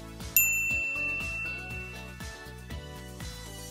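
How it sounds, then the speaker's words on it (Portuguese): A bright notification bell chime rings out once, loud and clear, then rings on over a background music track. "ativar o sininho para receber as notificações dos nossos vídeos mais recentes"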